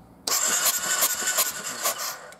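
A cold Triumph Bonneville motorcycle engine cranks over on the starter during a compression test, a loud, close, uneven churning with rhythmic pulses that starts abruptly after a brief pause and runs without voices.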